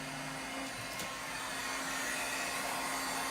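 Lavender embossing heat gun left running to stay hot, a steady airy whir with a faint electric hum, continuous and fairly soft, with no voices over it.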